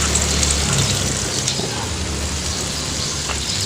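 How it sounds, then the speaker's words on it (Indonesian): Water pours onto a plant in a steady, rushing splash for a few seconds, close and fairly loud, with no talking. "Langsung saja kita siram ke atasnya"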